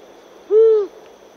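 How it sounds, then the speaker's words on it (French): A single long-eared owl hoot, one short nasal, low and even note rising out of quiet background, clear and close. "Le hibou moyen duc"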